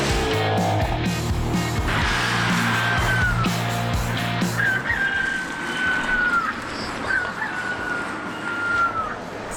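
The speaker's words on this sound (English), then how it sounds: "Sounds like a rooster in the backseat." An electric race car at Pikes Peak emits a rooster-crow warning sound, with several drawn-out synthetic crows repeating over a rumbling outdoor background.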